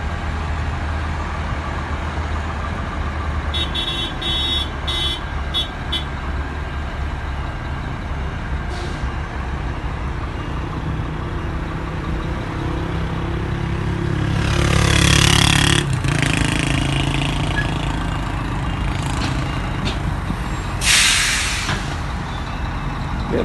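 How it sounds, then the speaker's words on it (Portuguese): Trucks maneuvering on a highway near Presidente Prudente, São Paulo, with traffic stopped by a detour: a steady low engine rumble with a hiss of air brakes and a louder passing swell midway, no talk. "Caminhoneiro manobrando na pista."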